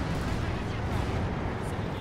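Heavy SU-76 self-propelled artillery barrage in Company of Heroes 2, a dense continuous low rumble of cannon fire and blasts with no clear gaps, loud and steady throughout.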